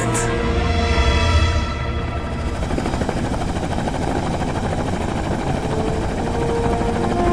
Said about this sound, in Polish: Wielki czarny śmigłowiec przemknął nisko nad miastem i zatoczył krąg nad niewielką polaną